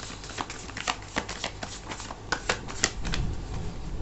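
Tarot cards being shuffled and drawn from the deck: quick riffling and snapping card flicks in an uneven rhythm, close up and fairly quiet, with no talking.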